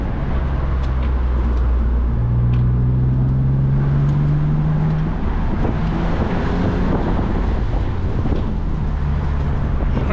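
A 2004 BMW E85 Z4 3.0 with a manual gearbox drives a mountain road, its engine droning steadily and rising in pitch through the gears, under constant wind and road roar from inside the car.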